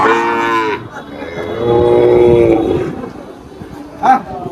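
Cattle moo loudly and close at a busy cattle market in Faridpur: two long, drawn-out bellows, then a short low call near the end, with a faint murmur of the crowd underneath.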